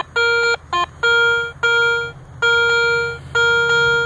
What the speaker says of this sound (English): We'll work on something right here that is absolutely driving this detector crazy.